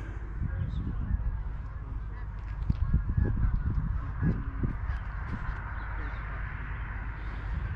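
A flock of geese honking repeatedly overhead in rural north Nottinghamshire, a loose chorus of calls over steady wind noise, moderately loud and fading slightly toward the end.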